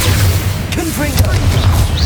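Confringo blasting spell in Hogwarts Legacy lands as heavy booming impacts amid chaotic combat noise, with several whooshing, swooping effects and sharp crashes over a continuous low rumble; battle voices are mixed in.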